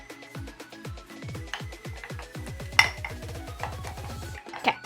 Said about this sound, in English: Now I'm gonna mix the red food coloring into my chocolate so it turns like a light pink color